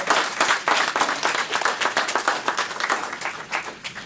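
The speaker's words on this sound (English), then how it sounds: "special round of applause" Applause for volunteers at a business organization's closing remarks, a room of people clapping with a distinct, slightly uneven rhythm of individual claps, held at steady strength for about four seconds.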